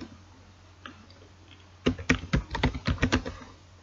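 Quick burst of typing on a computer keyboard while writing Python code, a rapid run of close, crisp key clicks after a quiet pause.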